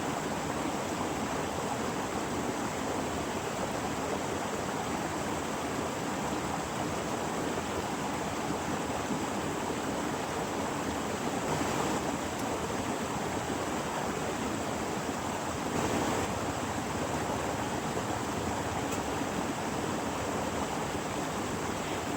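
A river flows beside a riverside eating spot in rural Bondowoso, a steady broadband rush of water, continuous and even throughout with no voices.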